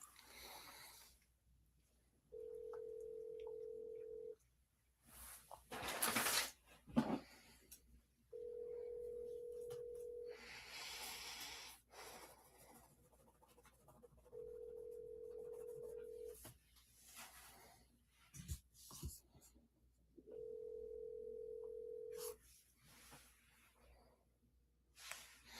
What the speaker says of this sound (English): It's just ringing.